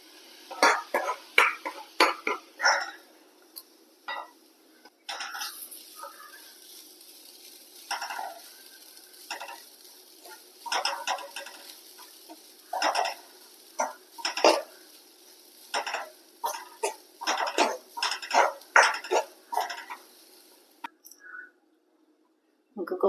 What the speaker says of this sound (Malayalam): തേങ്ങ ഒന്ന് വറുത്തെടുക്കണം.